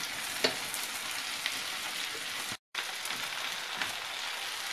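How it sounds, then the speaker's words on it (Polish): Fresh forest mushrooms frying in butter in a pan give a steady, close crackling sizzle with a few sharper pops, briefly cut out near the middle, with no talking. "Będę smażyć je tak długo, aż zupełnie sok z nich odparuje."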